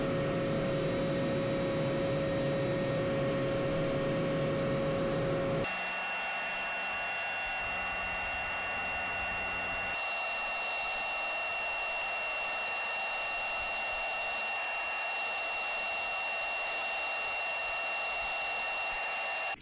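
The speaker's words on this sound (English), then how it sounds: "So I got these pretty well beveled on the belt sander, close as I want to get them" A belt sander runs steadily while beveling a wooden glide bait, a loud continuous whine that shifts pitch and drops in level partway through as the workpiece is pressed and eased.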